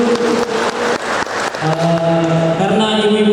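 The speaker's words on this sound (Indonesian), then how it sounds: "Kita beri tepuk tangan dulu." Audience applause at a church Easter celebration: brisk crowd clapping for about a second and a half, then giving way to sustained tonal sound and voices.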